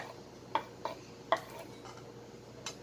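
Spoon stirring chili and onion sauce for tokwa't baboy, a few sharp scrapes and taps against the bowl spaced irregularly over a quiet background hum.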